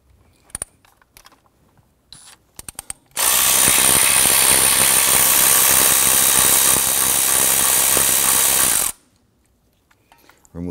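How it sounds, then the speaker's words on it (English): A ratchet with a 10 mm socket loosens the ignition coil anchoring bolt on a 2005-2011 Nissan Frontier 4.0L V6, a loud continuous rapid clicking burst of about six seconds framed by soft scattered handling clicks. "Use a 10 millimeter socket to loosen the anchoring bolt here for that coil."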